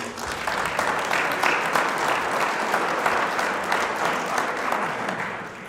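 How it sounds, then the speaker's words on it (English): A local candidate forum audience gives school board candidates a sustained round of applause, full and steady clapping at a fairly loud level that eases slightly at the end. "Another round of applause for them, please."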